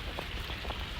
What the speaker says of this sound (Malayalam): നല്ല മഴയുണ്ട് ഇവിടെ